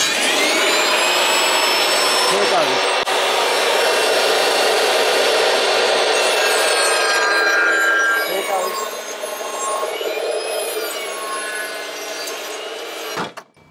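A SawStop table saw runs and cuts wood with a loud, steady whine for about eight seconds. The tone then shifts and eases as the blade spins down, ending with an abrupt stop.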